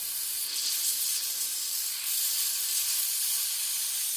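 Lucas chain lube sprayed onto a Kawasaki Ninja 400 motorcycle chain gives a continuous close, airy hiss with slight surges and no pauses, and no one speaks.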